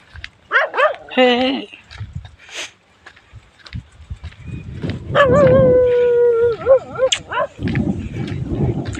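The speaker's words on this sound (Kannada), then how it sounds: "ಇಲ್ಲೊಂದು ಮುಂದೆ ಯಾವುದೋ ನಾಯಿ ಬಾಳ ಆಗ್ತೈತಿ" A dog outdoors beside a tarp-lined farm pond barks sharply in short bursts, then lets out a long, loud, wavering howl, close by, with someone speaking in between.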